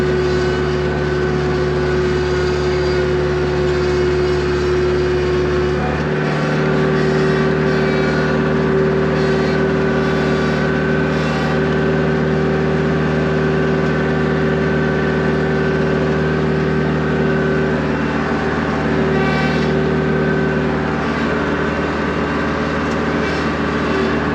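A grading vehicle's engine drones steadily and loudly for the whole stretch as it blades a horse pasture, holding a constant hum with a slight shift in pitch early on.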